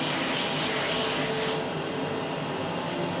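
An airbrush or spray can hisses in one steady, close burst while paint goes onto the top of a Light Panther tank model, a Bolt Action scale miniature being pre-shaded, then cuts off to leave a quiet hum.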